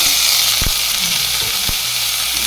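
Crushed masala frying in a pan for a Kerala fish curry, giving a steady, loud sizzle throughout with a couple of brief low thumps.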